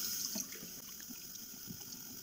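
Water running over a cyanotype print during rinsing, a quiet steady wash of flowing water with light splashy patter, close and faint.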